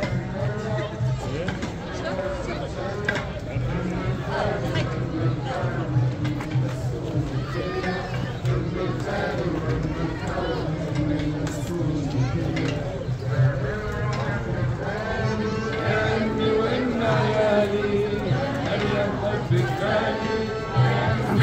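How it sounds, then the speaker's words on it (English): A festive crowd fills a Palm Sunday procession in Jerusalem, a dense steady babble of many voices with chanting and clapping mixed in. The crowd stays loud and close, and nearby people talk over it. "I want you to see the crowd,"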